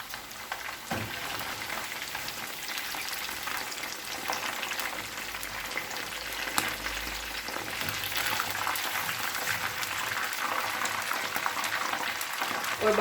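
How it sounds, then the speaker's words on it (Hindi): Beef koftas sizzle steadily in hot oil, a dense continuous crackle and hiss that holds at an even, close level throughout with small spattering pops and no talking. "और बाकी कोफ्ते भी इसी तरीके से फ्राई कर लेंगे।"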